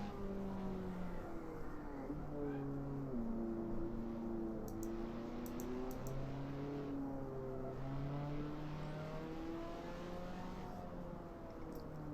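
A race car in Assetto Corsa revs up and down through the gears, its engine note rising and falling in repeated sweeps, steady and prominent with no talk.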